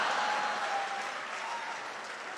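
Audience applause at a Hindi comedy and satire poetry gathering, a steady dense wash of clapping that holds throughout and eases slightly toward the end, with no voices over it.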